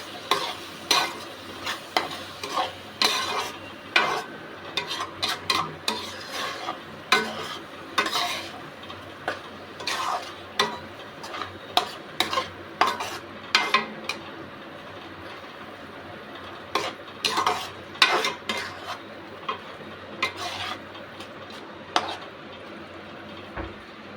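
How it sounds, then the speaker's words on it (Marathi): Dhaba-style green masala chicken sautéed in a pan: a continuous frying sizzle under repeated sharp scrapes and clinks of a spatula stirring against the metal, coming in irregular bursts, close and fairly loud, with no talk. "त्याला चांगलं असं सॉटे करून घ्यायचं."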